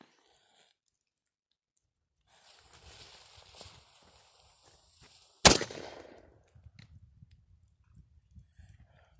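A single 32-pounder naval cannon firing, one sharp, loud blast that decays quickly, after quiet shuffling and footsteps, with faint movement afterward.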